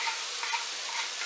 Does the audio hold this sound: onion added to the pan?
yes